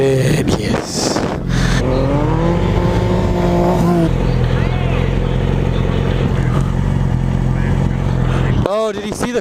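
A car drives past on a rainy Palomar Mountain road, its engine rising and falling loudly and close by, with voices talking over it.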